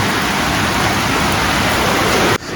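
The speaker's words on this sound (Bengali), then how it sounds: "সব বাইরে অনেক বৃষ্টি হচ্ছে দেখুন" Steady, dense rain pours down outside, a broad hiss that fills the whole clip before dropping off abruptly near the end.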